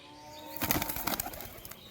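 An adult pigeon, just released, beats its wings in a close, brisk flurry of flaps lasting about a second, then tapering off, with no talk.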